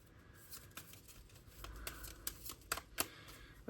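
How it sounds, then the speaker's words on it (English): A deck of playing cards is shuffled by hand, giving soft riffling rustles and several sharp flicks and snaps close by at a quiet level, with no voices. "So let me give it a good shuffle"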